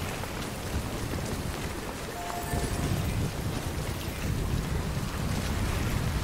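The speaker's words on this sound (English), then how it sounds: "Yeah, this storm is moving." Steady heavy rain pours down during a thunderstorm in the video game Death Stranding, with a low rumble of thunder rolling underneath a continuous wash of falling water.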